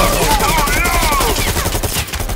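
Rapid bursts of gunfire from the VR shooter Bullet Train, set in a subway shootout, crack in close succession with dense, repeated shots over the full stretch.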